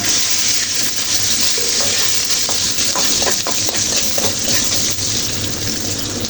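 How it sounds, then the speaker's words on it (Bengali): Onion and garlic fry in oil in a pan with green chillies and salt for a mustard-greens dish, a loud steady sizzle that runs throughout, with stirring clinks, and nobody speaks. "পেঁয়াজ রসুনগুলো ব্রাউন কালার করে ভেজে নিচ্ছি"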